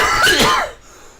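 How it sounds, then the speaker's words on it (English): A single harsh cough bursts out close to the microphone, a short raspy throat-clearing hack that fades quickly into quiet room tone, with no speech. "if my audience isn't used to me coughing by now"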